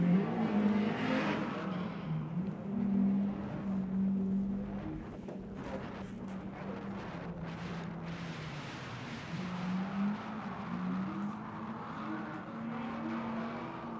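Two drift cars, a black Mazda Miata and a BMW E36, battle on a racing circuit during a drift competition at Affinity Circuit, Oregon, engines droning and revving steadily with some tire noise throughout, moderately loud and continuous.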